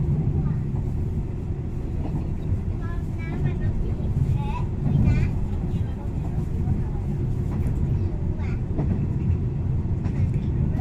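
A special express train runs through Thepa station in Songkhla, Thailand, without stopping, giving a steady, loud low rumble of rolling wagons throughout, heard from on board or close by.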